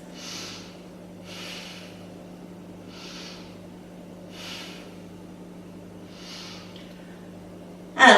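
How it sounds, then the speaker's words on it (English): Slow, deep breathing during a yoga side plank, with five even breaths about 1.5 seconds apart, close and quiet, then a brief louder noise at the very end. "Let's take 3 breaths."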